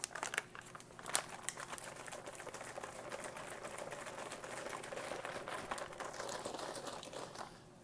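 A plastic pouch from a 2010 U.S. military MRE ration, Menu 19 Beef Roast with Vegetables, is folded over at close range, producing several seconds of continuous soft crinkling and rustling, quiet and with no voices.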